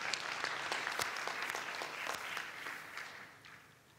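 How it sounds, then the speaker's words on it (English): Dense audience applause from a crowd at a live event, steady and full for several seconds before gradually thinning and fading toward the end. "let us give them a round of applause before they come up"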